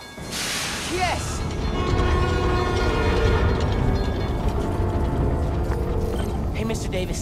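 In Spider-Man: Miles Morales, a New York subway train runs after being powered up, a loud continuous mechanical rumble with ratcheting clatter and a brief rising whine early on, without speech.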